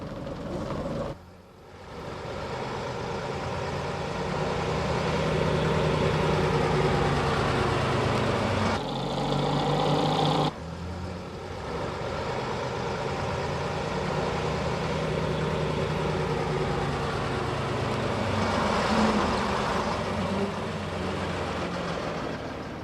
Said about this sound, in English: members board a petrol-engined all-Leyland TD2, White Queen, for a ride to Beachy Head